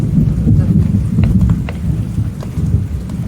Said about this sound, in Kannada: ಗುಡುಗು ಹಾಂ ನೋಡಿ, ಕೇಳ್ತಾ ಉಂಟಾ ಗುಡುಗುಡು?